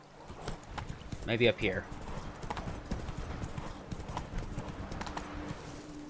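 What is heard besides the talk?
Roach the horse galloping in Witcher 3 video game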